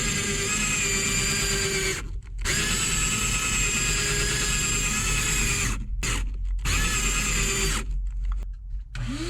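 A drill fitted with a scrub brush whines steadily while scrubbing the interior of a 1997 truck with a 7.3 Powerstroke, loud and close, with a few brief pauses as the trigger is released.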